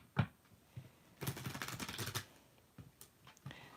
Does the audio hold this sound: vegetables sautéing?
no